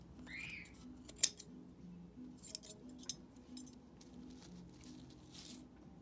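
Scissors snip loose fibers while trimming a burn-damaged spot on a carpet during a repair, giving a few sharp, close cuts with soft rustling between them.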